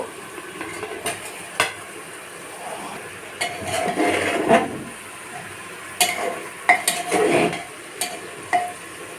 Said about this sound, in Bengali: জল দিব না আমি মাছের মাথাটাকে ঢেলে দিব